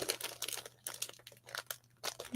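Paper for a Paper Pumpkin craft is folded over with crisp crinkling and rustling in quick, uneven bursts, close by and alone.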